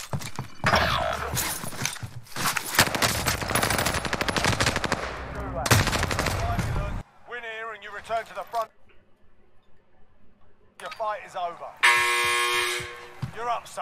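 Gunfire in the Warzone Pacific shooter game: dense, loud bursts of automatic fire, then quieter stretches with game voices and radio chatter, and a final burst of shooting.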